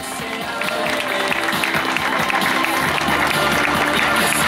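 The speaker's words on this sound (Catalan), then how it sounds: "Un aplaudiment, 300 euros." Crowd at a charity running event applauds a prize-winning team, sustained clapping with scattered cheers and a murmur of voices running under it the whole time.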